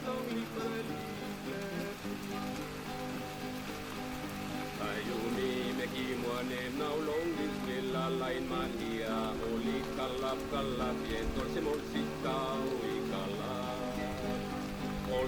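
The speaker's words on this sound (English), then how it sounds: "We arrived at his village in the driving rain." Heavy driving rain in a Papua New Guinea village, a steady dense hiss of drops pattering on surfaces, constant and fairly faint, with a voice talking over it.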